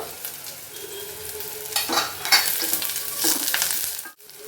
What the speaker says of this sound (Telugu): కొంతసేపు వేగనిద్దాము ఆనియన్స్ని వేగుతుండే కదా ఈ టైంలో మనం పచ్చిమిరపకాయలు వేసేద్దాము